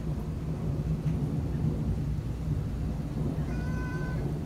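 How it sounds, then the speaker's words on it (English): Low, rumbling thunder from a severe thunderstorm rolling through southeast Michigan, a steady continuous roar throughout with no talking, ending in a few faint high tonal chirps. "It's a lot of thunder"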